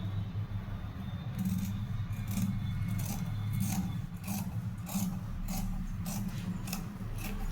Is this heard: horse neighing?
no